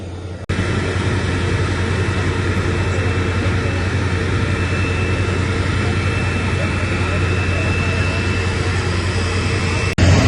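Airplane jet engines at Guwahati Airport just after landing, a loud steady roar and whine filling the cabin continuously, with voices faintly present.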